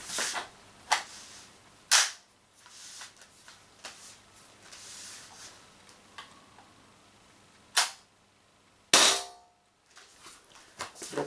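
An Umarex HDR68 airgun in its 16 joule version fires a few sharp, loud reports spaced seconds apart, with small mechanical clicks and handling noise in between and no talking.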